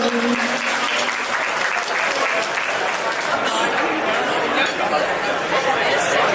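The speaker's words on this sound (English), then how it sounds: "Huge round of applause, ladies and gentlemen, for Shreya Shrikant." An audience in a banquet hall applauds after a singer's performance at a Republic Day event, a sustained wash of clapping mixed with cheers and chatter.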